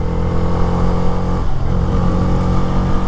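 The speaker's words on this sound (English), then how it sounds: "now let's switch to the petrol and see how the bike pulls" Bajaj Freedom 125 motorcycle running on petrol, its mid-pitched engine droning steadily and loud with a slight shift in tone partway through as it accelerates, no talk over it.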